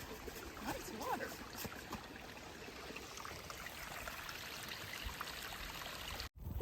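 A stream flows steadily along the Appalachian Trail between Sam's Gap and Devil's Fork Gap, a soft continuous trickling wash, fairly faint and even, with a brief dropout near the end.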